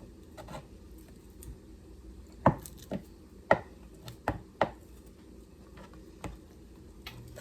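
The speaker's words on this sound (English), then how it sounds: "I'm going to cut up the spam into cubes." A knife cuts Spam into cubes on a board, giving a handful of soft, irregular knocks and thuds against a quiet background, fairly close and unhurried, with no speech.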